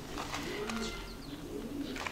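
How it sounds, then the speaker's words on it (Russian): Soft, low cooing from a curly-feathered pigeon at a bird park, a few faint murmuring calls over steady outdoor background hum, with no talk over them. "Курчавый голубь."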